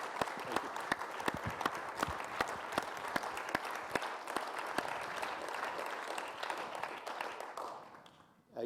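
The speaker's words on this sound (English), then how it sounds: "give a round of applause to Professor Otten for the lecture tonight" Sustained applause from a seated audience after an evening lecture on UK soil science, dense steady clapping that carries on at an even level, then thins and fades out near the end.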